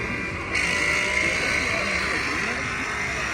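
A car engine pulls hard through second gear on a street cruise, a loud, steady roar that swells after a brief moment and holds strong to the end.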